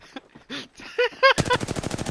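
Loud, sharp, rapid shots from a Kraber sniper rifle in a video game ring out close together near the end, after a few short electronic tones and effects.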